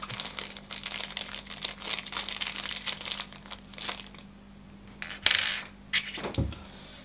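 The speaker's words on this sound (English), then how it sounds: "there's also an Allen key and a couple of screws in there upon closer inspection" Small metal screws and an Allen key are taken out of a plastic bag, giving close crinkling plastic and a sharp metallic clink of small parts.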